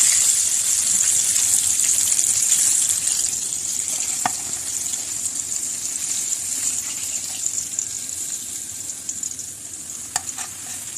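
Chicken pieces roasting in hot oil over a very low flame give a steady, fairly loud broadband sizzle that fades slightly over time, with a few sharp pops and crackles standing out near the end.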